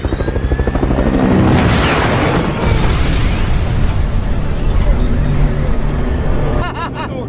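A bombardment of an enemy building in a war film erupts in a loud, rolling blast with rumbling debris and a roaring, helicopter-like din sustained for several seconds, with faint crowd noise beneath and an abrupt cut near the end.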